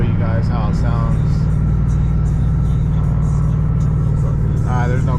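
A Chrysler 300 SRT8 fitted with a Borla Atak exhaust rumbles steadily from inside the car as it accelerates, a deep continuous engine drone with someone talking over it.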